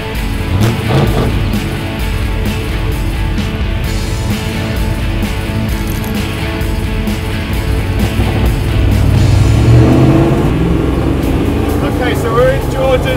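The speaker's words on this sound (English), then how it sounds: "Land Rover 101 four-wheel drive." Loud, steady engine and road rumble inside a Land Rover 101 four-wheel drive during off-roading, a dense continuous drone that swells slightly near the end, with voices talking over it.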